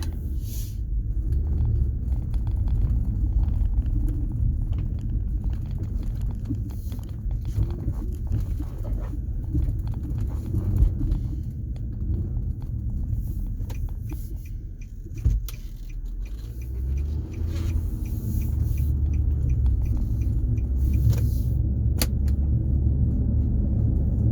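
A 2009 Nissan Murano on the road gives a steady, loud low rumble of engine, tires and road noise from inside the cabin, broken by small rattles and clicks. The car has a reported wheel bearing fault.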